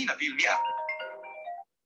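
An iPhone plays its ringtone preview tone while the ringer volume is set to about 90 percent, a bright ringing chime with sustained tonal notes that follows a burst of speech and then stops abruptly.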